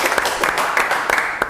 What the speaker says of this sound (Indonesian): Tepuk tangan untuk Nadine.